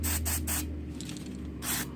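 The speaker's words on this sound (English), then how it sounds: "So just use some throttle body cleaner." Throttle body cleaner sprayed from an aerosol can in three quick hissing bursts, then a pause and one more burst, loud and close, with no talking.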